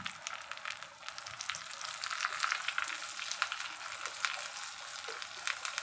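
Whole garlic cloves frying in hot tempering oil for moong dal with palak, a steady crackling sizzle with bright pops and light stirring, close and moderately loud, with no talking.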